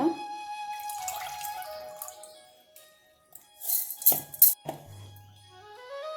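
Soaked millet and fenugreek seeds are rinsed in water, with dripping, trickling and a few louder splashes and sloshes close by, and no voices.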